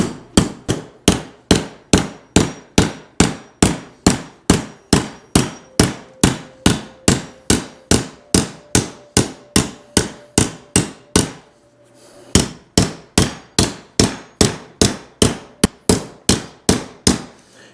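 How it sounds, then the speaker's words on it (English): A hammer flattens a copper cuff blank on an anvil in a steady run of several dozen sharp, ringing strikes at an even pace, broken by one short pause. "You want to hammer it past your mark a little ways, and then start hammering the edges so it can get flat."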